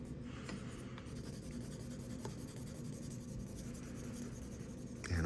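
Paper rubbed by hand to transfer a photocopy with nail polish remover, a soft continuous scratchy rubbing in steady back-and-forth strokes, close and quiet, with a louder bump at the end.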